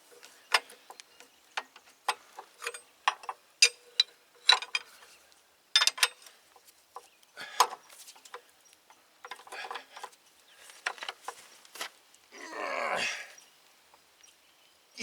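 Sparse, irregular metallic clicks and ticks from a wrench tightening hydraulic hose fittings on a Case 580K backhoe during a blown-hose repair, close and fairly quiet, ending with a brief creaking scrape.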